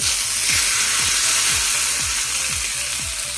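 Hot tempering of mustard seeds, fenugreek seeds and asafoetida sizzles loudly and steadily as it is poured onto chutney, with a regular rhythm of stirring strokes beneath the hiss.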